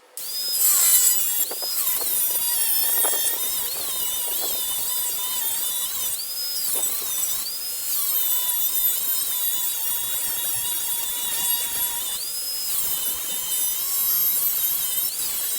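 A 4.5-inch angle grinder cuts through metal tubing, slicing off a cover to leave a channel, giving a loud, steady high-pitched whine with shifting squealing tones. It runs continuously and close up for the whole stretch, with no talk over it.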